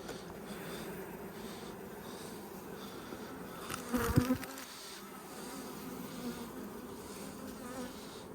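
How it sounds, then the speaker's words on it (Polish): Honey bees buzz steadily around an open hive during an autumn colony inspection, a dense continuous insect drone with a brief louder swell midway as bees pass close. "Nie wiem, skąd te pszczoły się tam wzięły,"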